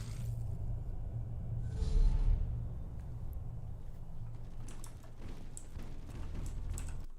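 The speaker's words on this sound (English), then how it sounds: "Oh my god, plastic shower curtain in the dryer." A plastic shower curtain tumbles in a clothes dryer: a low, muffled rumble with soft, repeating thuds and rattles, steady and moderately faint.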